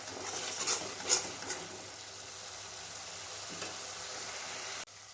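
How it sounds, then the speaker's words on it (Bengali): Rohu fish in a curd and mustard masala being fried and stirred, giving a continuous close sizzle with a low hum beneath it, a few soft utensil scrapes early on and a small clunk just before the end. "আবারও বেশ কিছুক্ষণ ধরে ভালো করে নাড়িয়ে নেব। আরও একটু খুব ভালো করে কষিয়ে নিতে হবে"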